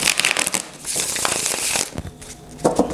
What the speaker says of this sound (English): Okay, this will be the last shuffle.